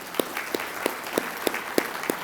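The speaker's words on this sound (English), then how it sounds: "If we can give them all a round of applause" Audience applause at a college machining lab dedication honoring the Gene Haas Foundation, sounding as a steady pulse of single sharp claps against a light clapping wash.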